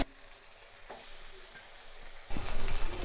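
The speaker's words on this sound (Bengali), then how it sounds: "এবার আমি মশলার পেস্টটা দিয়ে কষিয়ে নেব বেশ খানিকক্ষণ" Oil sizzles steadily in a pan, then bursts into a louder, crackling fry as a spice paste hits the hot oil and is stirred while cooking flat beans.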